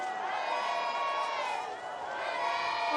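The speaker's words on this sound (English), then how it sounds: "The crowd's going wild." A crowd cheers and shouts at a freeride ski event at Baqueira Beret, a sustained roar of many voices with rising whoops, mid-distance and fairly loud.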